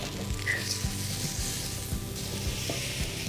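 Veal sears in a hot pan with a steady, close sizzle and light crackle, a continuous frying hiss with occasional spatters and no talking.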